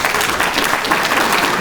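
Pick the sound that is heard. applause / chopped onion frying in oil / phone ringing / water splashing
applause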